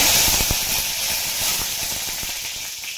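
Curry leaves crackle in hot oil with mustard seeds and cumin, a steady close hiss with quick popping spatters throughout, no voices.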